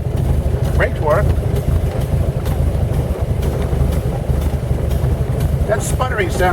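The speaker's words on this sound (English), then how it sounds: "That sputtering sound is because I got a slight leak in my exhaust manifold." A 1917 Buick E-49 with a slight exhaust manifold leak chugs and sputters while driving, a steady low rumbling engine throb with irregular popping, heard up close under someone talking.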